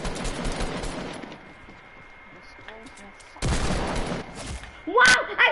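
Gunfire in a video game comes as two loud bursts separated by a quieter stretch, with a sharp high blast near the end; a player's voice can be heard in places.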